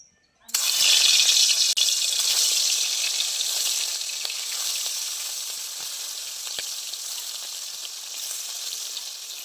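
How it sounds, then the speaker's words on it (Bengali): Pakal fish, a freshwater eel, hits hot oil in a village kitchen with a sudden loud sizzle. The steady frying hiss holds close and strong, easing slightly over time. "আর মাছগুলো ভেজে নেব।"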